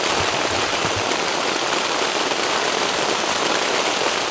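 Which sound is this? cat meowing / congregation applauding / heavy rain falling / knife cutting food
heavy rain falling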